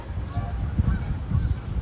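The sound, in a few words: geese honking at Disneyland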